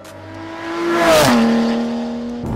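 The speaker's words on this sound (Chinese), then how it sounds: "然后这支 IP 的排气管真的是有够凶的，可能在低转的时候它的共鸣是偏大的" A Porsche 718 Boxster GTS with a 4.0 naturally aspirated engine and an IPE exhaust roars past up close. Its loud, raspy note rises as it nears, then drops in pitch as it moves away.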